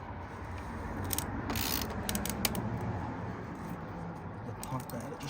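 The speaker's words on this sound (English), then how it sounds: "We're going to tighten it up using the ratchet." A ratchet tightens the fuel filter housing on a Ford Focus Mk3.5 2.0 diesel, close clicking and creaking mechanical strokes over a steady background hum, with a voice speaking at times.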